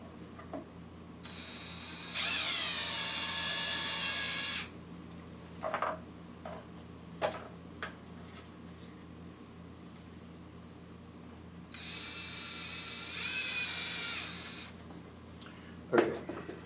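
A drill boring slowly into mahogany for a guitar build, two sustained whirring bursts of a few seconds each separated by quiet, with a few brief clicks and knocks between them.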